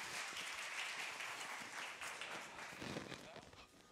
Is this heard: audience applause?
yes